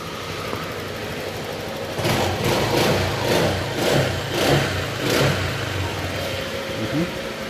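A Honda Click 125 scooter engine, freshly overhauled, idles steadily, then revs in a few short rhythmic bursts before settling back to a low idle.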